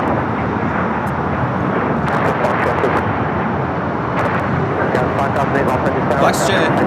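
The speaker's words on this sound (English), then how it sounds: "So you have a flex jet now taking off." A FlexJet Praetor 500 business jet takes off at LAX with a steady, loud, broadband engine roar, while a voice talks over it throughout.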